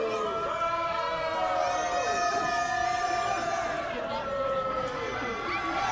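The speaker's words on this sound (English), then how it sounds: "This crowd just showering the Lankadors in boos." A wrestling crowd in an arena at a 2-on-2 tag match boos steadily, a dense, loud wash of massed voices sustained throughout with tonal whistles or calls rising above it; commentary-style talk sits underneath.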